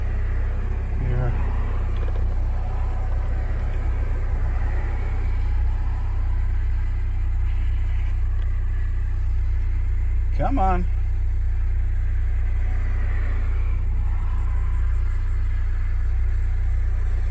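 Car engine idling at the top of a driveway before a road test, a steady low hum under occasional talk and passing traffic, with the vehicle's driveability fault caused by a spiders' nest.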